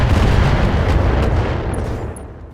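Turrets open fire on mechs in the BattleTech video game, a loud, continuous barrage of booming gunfire and rumbling blasts that fills the whole stretch and fades slightly toward the end, with no voices.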